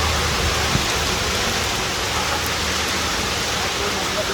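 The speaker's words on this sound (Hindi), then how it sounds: "रास्ते में बहुत तेज से बारिश शुरू हो गई थी।" Heavy rain pours down while people are out on the road, stopped beside a fast-food cart. The downpour is a loud, dense, steady hiss that never lets up.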